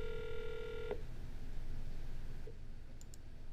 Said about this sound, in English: the click dialer is calling the number